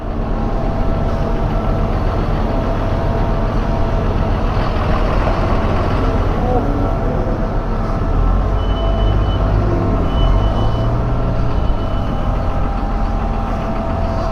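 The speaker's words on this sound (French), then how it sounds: "je crois que j'ai vu un autre tracteur qui arrivait" A Claas Arion 620 tractor pulling a large urea trailer arrives on a farm, producing a steady, loud, close diesel rumble with no break and no voices.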